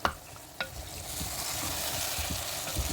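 Okra and tomatoes cook down in a pot for bhuni bhindi, a steady close sizzle with occasional soft knocks and stirring sounds, and no talking.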